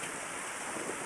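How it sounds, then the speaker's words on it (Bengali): Heavy rain falling in Saudi Arabia, a steady, dense wash of broadband hiss with no pauses or distinct drops, even in level and close throughout. "সৌদি আরবে দেখেন ভরপুর বৃষ্টি হইতেছে আজকে 2-3 দিন যাবত।"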